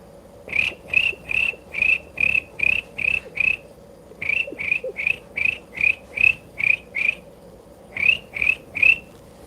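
A person imitates a cricket's chirp, producing loud, close, evenly spaced shrill pulses in quick bursts of several, with a brief pause before the last group.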